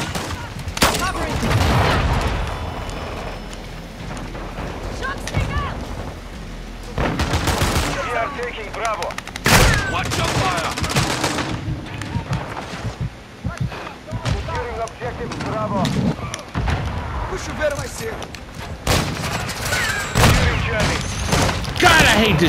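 Gunfire from a shotgun in a first-person shooter game rings out in loud repeated blasts mixed with other gunfire and explosions, while a player talks throughout.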